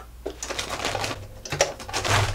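Sewing machine running a straight stitch to attach a strap to a bakery flour sack being made into a shopping bag, a close, steady mechanical whirring with short pauses and shifts in speed.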